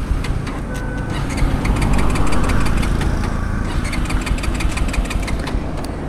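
A Bajaj Pulsar N250 motorcycle engine runs at a steady idle just after starting, a continuous low rumble held close and fairly loud for the whole stretch, with no talking over it.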